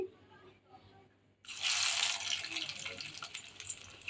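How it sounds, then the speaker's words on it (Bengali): An egg and cabbage snack is dropped into hot oil in a pan, setting off a sudden loud, steady sizzle that bursts in after a quiet start and keeps crackling to the end. "এবার আমি একটি নাস্তা তেলে ছেড়ে দিচ্ছি"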